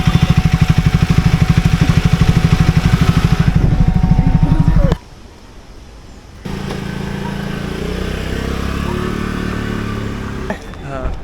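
A Triumph Scrambler 400X motorcycle engine runs close by with a loud, steady pulsing thrum. It cuts off abruptly partway through, and after a short quieter gap a lower, steady engine rumble takes over.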